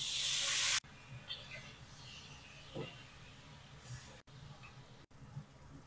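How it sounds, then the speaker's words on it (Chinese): A tilefish with its scales left on pan-fries until golden in a home kitchen, giving a soft, steady sizzle and hiss with a few small pops. The sound is faint, and there is light background noise. "这种马头鱼的鱼鳞不用去掉，煎完以后又酥又脆，很香。"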